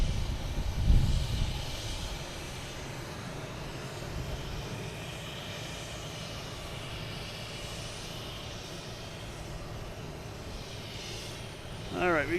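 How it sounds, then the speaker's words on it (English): A United Airlines Boeing 737 MAX 8 arriving from Newark at Boston Logan, a steady broadband jet roar held at a constant distance across the whole span, with a brief voice cutting in near the end. "Have United Airlines coming in from Newark? 737 MAX 8."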